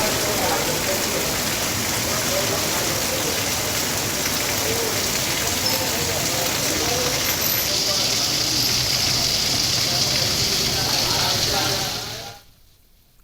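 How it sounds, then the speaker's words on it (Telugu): Sudden heavy downpour in Hyderabad, a dense, steady hiss of rain pouring on surfaces, loud and continuous throughout before cutting off abruptly near the end. "ఒక్కసారిగా జడివాన పడడంతో వాతావరణం చల్లబడింది"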